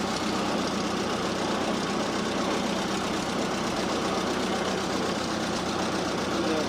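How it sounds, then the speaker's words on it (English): A vehicle engine revving and running steadily as it is taken through the gears, a constant mid-pitched mechanical drone with faint knocking vibration, fairly quiet and unbroken throughout. "I'm gonna run it through the gears."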